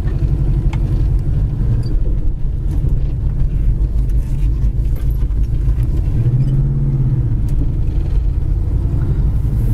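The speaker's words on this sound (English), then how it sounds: "Original 350 engine runs excellent." A 1970 Chevy Nova SS with its original 350 V8 runs while driving, a steady loud low engine rumble with road drone throughout, heard from inside the car with no talking.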